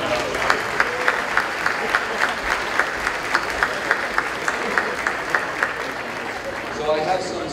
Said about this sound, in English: So if you could all give yourselves a round of applause,